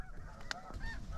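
Snow geese honk during a hunt, a loud nearby call standing out briefly amid a steady murmur of more distant honking from the flock.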